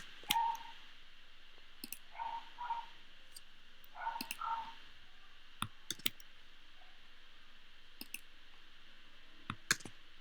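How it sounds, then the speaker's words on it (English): Computer keyboard keys are pressed in sparse, sharp clicks spread across the stretch, quiet and close, with faint soft tones and brief murmurs between them. "we need to press Option and then return on our keyboard."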